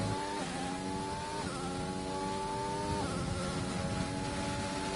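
Formula 1 race car in a video game, soft tyres fitted, flat out on a qualifying lap in Brazil: a steady high engine whine with stepped pitch drops at each gearshift, continuous with no voices.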